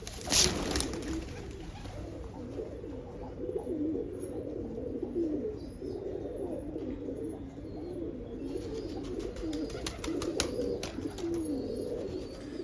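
A female Ferozpuri pigeon suffering from a respiratory ailment coos in steady, continuous low murmuring rolls, close and fairly quiet, with a few faint chirps in the background.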